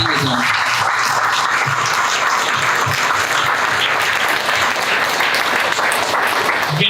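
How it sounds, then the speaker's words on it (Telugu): A large audience at a church gathering applauds loudly and continuously, a dense, even wash of clapping with no pause from start to end. "बस जोरदार ताली बजाओ।"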